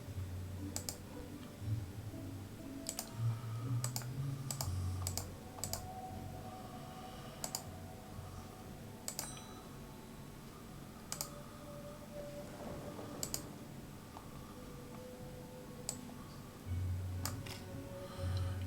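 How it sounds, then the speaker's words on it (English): Sharp, irregular clicks of a mechanism in The Darkside Detective video game, sounding as a long series of crisp ticks and taps with short pauses, alone without talk. "That seemed to fit with a curious clicking noise."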